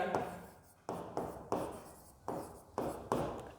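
A pen writes on paper during a maths lesson, giving a quiet scratchy sound in six short strokes at a steady rhythm, close to the microphone with no talk over it.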